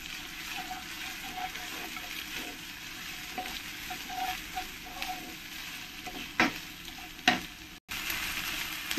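Ginger garlic paste fries in a pan for aloo matar pulao, giving a constant soft sizzle, with light stirring scrapes and a couple of louder clanks near the end.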